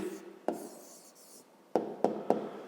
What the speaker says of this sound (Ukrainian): Пишемо тоді відповідь.